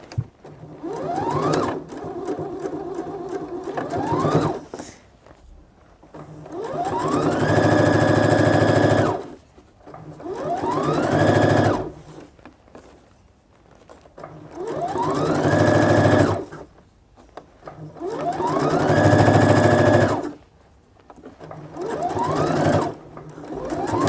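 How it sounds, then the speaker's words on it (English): A sewing machine stitches fabric onto a pair of jeans in five close, loud bursts of steady whirring, each a few seconds long, separated by short pauses, with no talking. "I'm just going to sew the fabric on my jeans."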